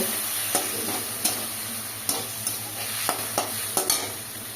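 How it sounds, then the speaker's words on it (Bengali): A spice paste of cumin, ginger, coriander and chili fries in oil, sizzling steadily while a spatula scrapes through it in regular, close strokes about once a second. "দিয়ে মশলাটাকে ভালো করে কষিয়ে নেব।"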